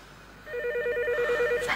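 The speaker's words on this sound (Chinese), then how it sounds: "电话。" A telephone rings in an indoor drama scene, one short electronic trilling ring, clear and fairly close, over a quiet background.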